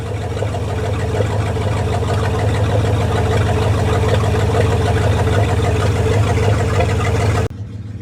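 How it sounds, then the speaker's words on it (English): An old Ford F600 truck engine runs on its own fuel through the filter and carburetor, a loud, steady, close idle with a constant low drone that cuts off abruptly near the end. "It's running. It's running on its own fuel."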